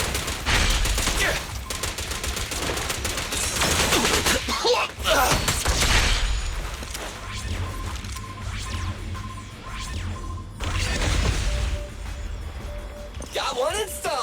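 Gunfire from the video game Zenless Zone Zero rattles out in repeated loud bursts across a battle against ethereals, mixed with impacts and crashes, while voices talk over it.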